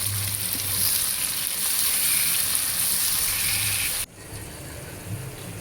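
Onions and tomato sautéing in oil for paneer biryani give a loud, steady sizzle that carries on unbroken, then drops sharply to a quieter fry for the last second or so.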